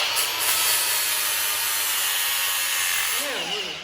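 Power tool cutting a weld off a crazy cart drift bar, giving a steady, loud, harsh hiss that holds for several seconds before easing slightly at the end.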